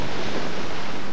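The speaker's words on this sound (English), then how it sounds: "But the waves keep pulling them away." Rough ocean surf churns around a rescue basket at sea, a dense, loud and continuous wash of waves and wind noise with no talking.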